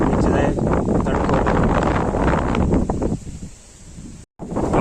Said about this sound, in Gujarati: પવનનો બી અવાજ વધારે છે એટલે સંભળાવે બી ઓછું.